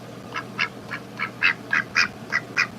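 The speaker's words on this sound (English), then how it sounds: "She's my domesticated house duck." A three-year-old domesticated house duck quacks about ten times in a steady, even rhythm, each quack short and close against a faint background hiss.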